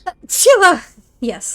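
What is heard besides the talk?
sneeze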